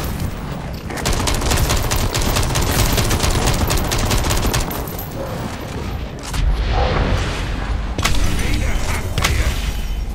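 Sustained automatic squad gunfire from the shooter SYNCED hammers away loudly and close, broken by brief lulls and a sharp burst near the end. No voices are heard.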